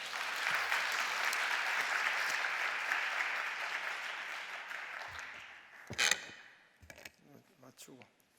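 A church congregation at a Friday late-night prayer service applauds steadily for several seconds, then the clapping fades into scattered claps, small knocks and movement.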